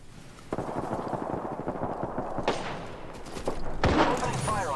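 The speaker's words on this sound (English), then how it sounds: "Opening fire on the enemy." Apex Legends gunfire crackles in quick bursts of close shots alongside game voice lines and player chatter, with sharp reports clustering toward the end.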